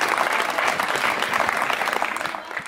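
Audience applause for a poet at a Hindi comedy poetry recital; brisk, dense clapping from a large crowd, steady for a couple of seconds, then tapering off.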